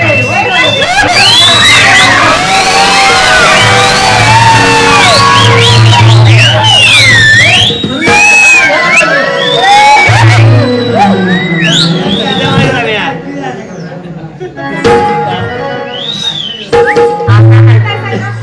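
Live audience at a Marathi stage play, 'Daku Sarja', erupting in loud crowd cheering, whoops and shouting with clapping, sustained for many seconds with brief dips before swelling again.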